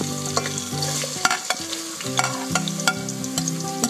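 Onions go into hot oil with vegetables for a vegetable pulao, crackling and sizzling loudly up close. Frequent clattering stirs punctuate the frying, with a faint steady tonal hum underneath.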